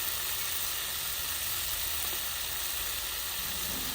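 Fresh peas sautéing in a pan for egg Maggi noodles, a loud, continuous sizzle and frying hiss heard close up with no talking.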